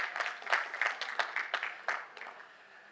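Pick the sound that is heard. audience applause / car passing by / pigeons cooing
audience applause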